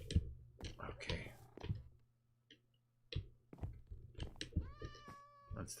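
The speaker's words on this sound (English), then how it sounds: "That's the cat." A pet cat in a Minecraft-like video game lets out a clear, close meow near the end, among clicky game sounds and brief bursts of quiet voice.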